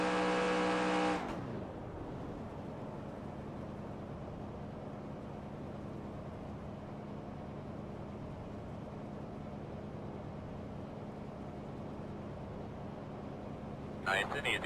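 A V8 race car engine in a racing video game at Talladega roars in a brief loud burst, then holds a steady, high-revving drone throughout.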